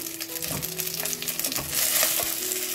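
Eggplant pieces frying in a pan over a low flame give a steady, close sizzle, with a few stirring scrapes and clinks and a burst of louder spattering partway through.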